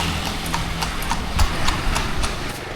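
Horse pulling a cart in Thailand, with steady rhythmic clip-clop of hooves over a constant road or wind rumble, no talking.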